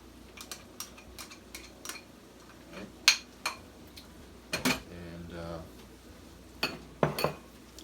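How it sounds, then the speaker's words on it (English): Peppers tossed into a pan for a chicken stir fry with ginger and garlic, a run of sharp clinks and scrapes of utensils against the pan with sizzling in between, fairly close, with a voice speaking at one point. "Now, yeah, toss our peppers in there."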